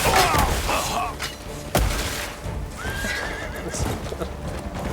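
A horse in the video game Crimson Desert whinnies and snorts while its hooves clip-clop and thud on the ground, with a heavy landing thump, loud and close amid busy game effects.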